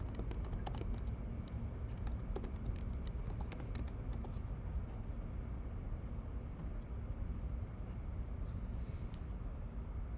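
Typing on a computer keyboard, with quick clusters of light key clicks over a steady low background hum, busiest in the first few seconds and sparse afterward.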